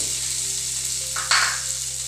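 Chopped onion frying in a pan for a potato palya makes a constant, moderately loud sizzle with a low steady hum beneath, broken by a short scraping stir partway through.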